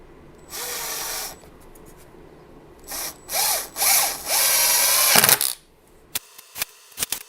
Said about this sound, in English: put a few screws in to hold it in place